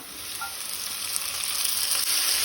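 Chopped onion and tomato frying in a pan for a Goan green peas and potato bhaji, a steady close sizzle that grows slightly louder and denser, heard alone without talk.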